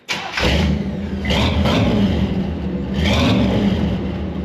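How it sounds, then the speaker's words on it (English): A car engine in a makeshift repair job, exhaust held with baling wire and a hose clamp, cranks and catches, then settles into a loud, close idle with a couple of throttle blips. "I'm gonna fire the car up and see if I hate how it sounds."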